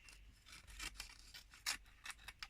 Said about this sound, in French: moi je coupe une petite partie comme ça évite de l'abîmer